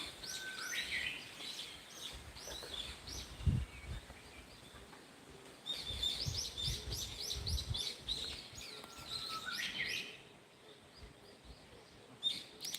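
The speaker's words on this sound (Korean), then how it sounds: "새소리, 산새소리" Mountain birds chirp and twitter in bursts across open outdoor air in a countryside yard, several calls overlapping at moderate distance, with a soft rustling background and a couple of low thumps.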